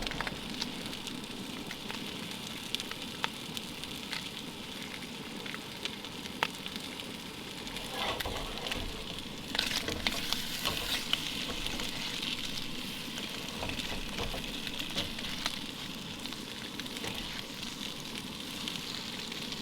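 Bacon fries hot on a Coleman 5466A propane stove outdoors, a continuous crackling sizzle with scattered pops and spits, steady throughout with no talk.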